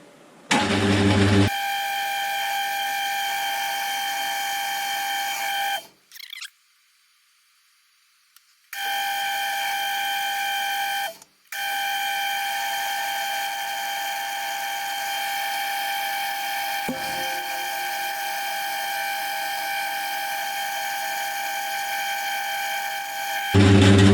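A machine bores out a face mill fitted with a new boring bar, giving a steady, loud tonal cutting whine that runs almost throughout, broken by one brief silent pause and a short dropout.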